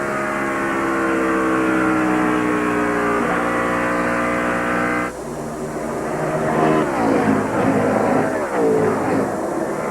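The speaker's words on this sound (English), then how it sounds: "the 25 car ran high down 3 and 4 the last time and gained on Dale Jr." NASCAR stock cars racing in the 2001 NAPA 500 at Atlanta, loud steady engine drone with a harmonic whine that shifts pitch midway as cars pass, continuous and close.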